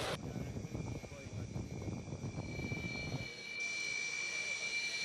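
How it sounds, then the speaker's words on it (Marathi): A fighter jet, a Sukhoi or Rafale, roars with a broad engine rumble and a sustained high whine, heard under a voice talking during the first few seconds and then alone as a steady tonal hum. "सध्या अनेक विविध लढाऊ विमानं आपल्या ताफ्यामध्ये दाखल होत आहेत"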